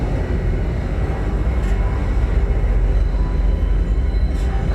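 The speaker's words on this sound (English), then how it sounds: "You can see the train actually goes around corners and things like that." Monorail train rolling through a city in the video game Star Citizen, a loud continuous low rumble and rushing drone, steady throughout with no voices.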